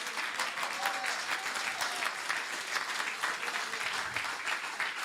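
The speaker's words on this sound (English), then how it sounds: "Oh, come on, clap for Jesus." A church congregation claps continuously, a dense wash of applause from many hands that holds steady for the whole stretch.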